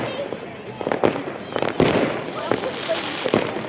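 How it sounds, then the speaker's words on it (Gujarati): Fireworks burst repeatedly at an Uttarayan kite-festival carnival in Ahmedabad, sharp cracks and pops of varying loudness popping at close to middle distance over a background of voices. "સતત 1 કલાકથી આવા નવા ફટાકડા ફૂટે છે અહીંયા."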